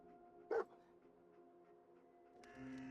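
A single short dog bark in the video game Fallout 4, a quiet sharp yelp standing out against a low hum of game ambience, followed by a rising tonal sound at the end.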